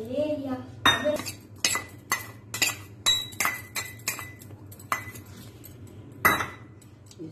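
Semolina and spices stirred together in a mixing bowl for methi cheela batter, a spoon clinking against the bowl in a run of sharp, evenly spaced taps over a low steady hum.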